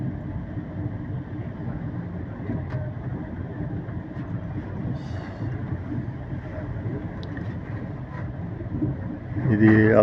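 Passenger train coaches sit in a cleaning yard outside Ahmedabad station, a low steady rail-yard rumble with faint clanks, growing louder at the end, as heard from a moving train.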